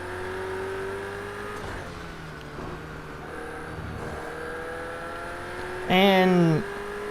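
Race car engine in a video game, a BMW droning steadily with a rising tone, then a sharp, loud revving whine for about a second near the end, while voices talk over it.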